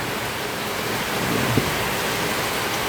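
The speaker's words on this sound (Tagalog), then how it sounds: "grabe po ang ulan" Heavy rain pours steadily as a dense, even hiss that stays constant throughout, with no voices over it.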